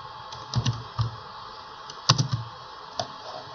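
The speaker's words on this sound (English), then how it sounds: "Find Shift on your keyboard, press Enter, and that leaves a space in between." Computer keyboard keys pressed while working in Microsoft Word, including Shift and Enter: several crisp, close clicks arriving in small clusters with short pauses between them, no talking.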